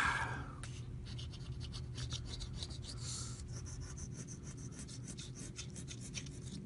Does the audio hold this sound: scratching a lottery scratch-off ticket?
yes